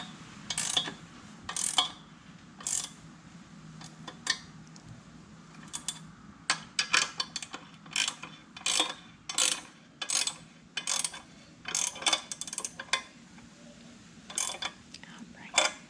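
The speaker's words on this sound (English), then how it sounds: "we're going to take our wrench and we are going to tighten it all the way down" A wrench tightens nuts onto boat trailer taillight bolts, producing a steady series of faint, close ratcheting clicks in short bursts under low background noise.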